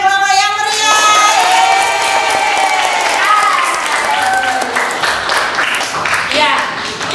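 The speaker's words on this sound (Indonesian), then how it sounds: "Tepuk tangan untuk 3 kelompok yang meriah" A classroom audience of students gives loud, lively applause for three student groups, with cheering, shouts and whoops from children and voices mixed over the steady clapping.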